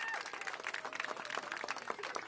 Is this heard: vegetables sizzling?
no